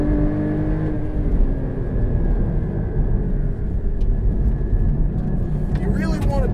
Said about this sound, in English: Now I'm just revving it myself